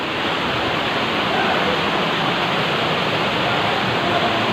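Kilangin Falls, the main waterfall in a Laguna forest with clear blue water, gives a steady, loud, close rushing roar with no break or pause.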